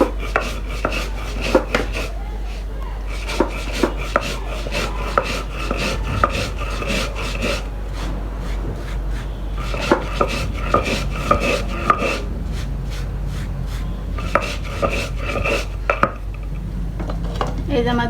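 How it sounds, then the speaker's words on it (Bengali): Cumin seeds ground on a stone slab (pata): repeated sharp scraping and knocking strokes of stone on stone, close and fairly loud, coming in uneven bursts with short pauses over a steady low hum. "এভাবে আমি জিরাগুলো করে পাটা বেটে নিব গুঁড়া করে।"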